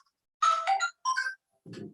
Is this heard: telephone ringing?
yes